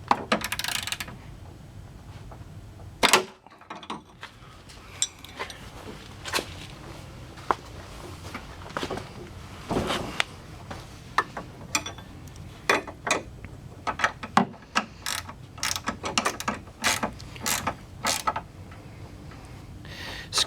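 Socket wrench ratcheting in short bursts while tightening an ATV winch fairlead, quick clicking runs separated by pauses and a few metallic knocks, fairly quiet and close.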